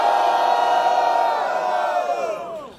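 A large crowd at a Brazilian rap battle, the Batalha do Coliseu semifinal, roars and whoops loudly in a sustained burst of cheering after a round, fading slightly toward the end.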